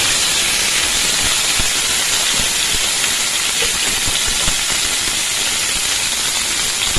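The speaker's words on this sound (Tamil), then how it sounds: "வெண்டைக்காயை போட்டு நல்லா வதக்கி எடுத்துக்கலாம்" Okra sautéing in hot cooking oil gives a loud, steady sizzling hiss that runs continuously and evenly throughout, close up and with no talking over it.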